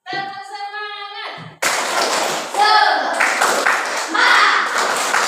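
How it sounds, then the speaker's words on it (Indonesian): A classroom of children claps a rhythmic 'tepuk semangat' cheer, sharp patterned hand claps loud and close, following a sung or chanted voice line at the start, with voices chanting along over the clapping. "Kita tepuk semangat dulu ya, biar semangat belajarnya. Ayo, tepuk semangat."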